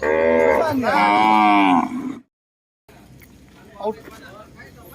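At a cattle market, a cow gives one loud, close, drawn-out moo with a falling pitch, then falls silent. Market chatter and the murmur of a crowd continue underneath.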